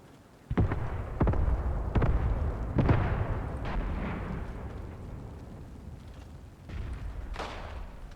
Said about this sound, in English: somebody's shooting at them. Somebody with a pistol.